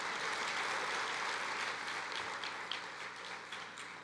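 A church congregation applauding together, a full, steady roar of clapping that eases slightly toward the end.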